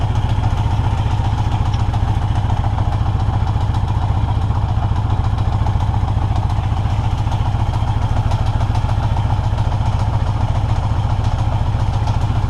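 A 1982 Yamaha XJ650 motorcycle engine idles on choke, holding a steady, loud, close rumble with an even mechanical clatter for the whole stretch and no voices.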